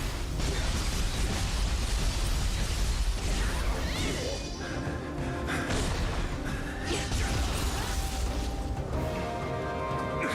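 Loud, dense game explosions and crashing blasts fill the scene continuously, with whooshing bursts and impacts layered over a constant rumbling roar from start to finish.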